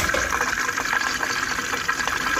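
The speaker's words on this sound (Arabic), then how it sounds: "كما كتشوفوا هو كيدخل الماء" Water rushing in through the first inlet valve of a Beko washing machine during a test mode, a steady close hiss of filling liquid lasting throughout with no talk.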